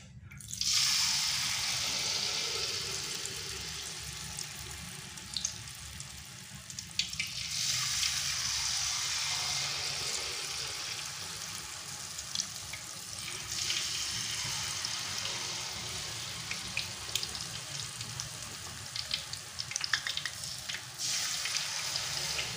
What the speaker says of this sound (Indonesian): Oke, karena minyaknya sudah panas, lalu kita goreng adonannya ya.